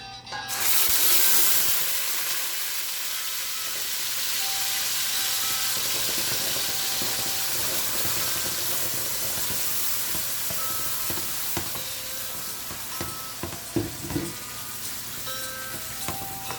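Tomatoes drop into a hot cooking pot with a loud burst of sizzling at the start, then a steady hiss and crackle with a few stirring knocks toward the end.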